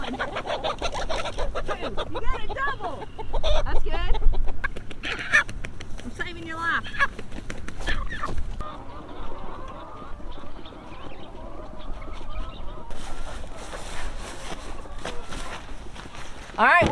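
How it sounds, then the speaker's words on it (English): Chickens clucking and squawking as they are herded and moved into a new area, with scuffling footsteps and a person talking over the fowl sounds throughout. "getting these chickens moved up here"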